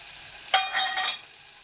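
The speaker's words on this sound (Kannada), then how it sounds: "ಸ್ವಲ್ಪ ಫ್ರೈ ಆಗಲಿ ಫ್ರೆಂಡ್ಸ್" Chopped onion and garlic frying in a pan, a brief burst of sizzling and stirring lasting under a second, close and alone over a quiet background.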